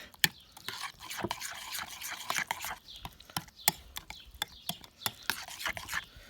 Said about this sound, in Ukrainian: І це треба потрібно все добре перемішати.